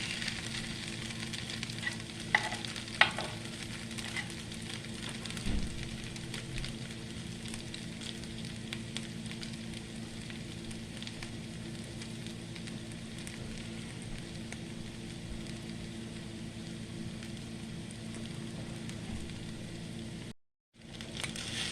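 Hash brown potatoes fry over medium heat in a pan. A steady, even sizzle carries on without a break, with a few faint clinks and one short drop-out near the end, and no one speaks.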